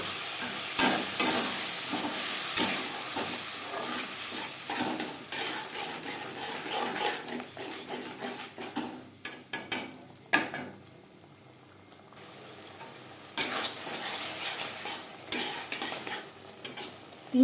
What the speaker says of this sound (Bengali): মশলা বেশ ভালো করে কষিয়ে নেব। মশলা কষানোর সুবিধার জন্য দিয়ে দেবো সামান্য পরিমাণে জল।